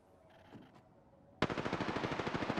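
Rapid automatic gunfire from an Apex Legends match bursts in after a quiet stretch, a loud, evenly spaced stream of shots that keeps going without a break.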